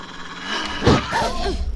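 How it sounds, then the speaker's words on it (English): Aggressive creature growl in The Vale: Shadow of the Crown, a short, rough, dog-like snarl rising mid-clip against a low ambient background, fairly close and moderately loud. "when you hear the more aggressive growl, you swing in their direction"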